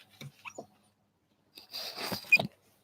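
A dog whimpers and yips in a short burst of soft, high whines after a few faint sounds, close by and without speech over it.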